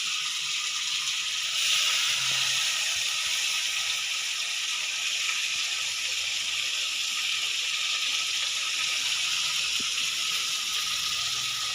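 Water is poured into a pot of fish curry made with dried anchovies, giving a steady, even hissing wash that runs without break throughout.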